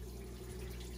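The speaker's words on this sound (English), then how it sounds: "like water falling type noise" Water falls through a tube into a newly set-up pond as a faint, soft trickle over a steady low pump-like hum, brief and close.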